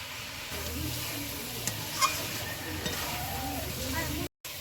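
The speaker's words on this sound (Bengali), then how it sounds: "মাংস আমার কষানো হয়েছে" Meat and spice paste sizzle steadily in a hot pan, with a few light clinks of a utensil against the pot.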